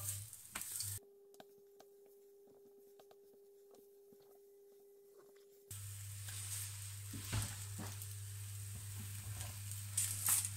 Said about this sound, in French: Ma poêle est assez grasse. Je fais revenir mes aubergines.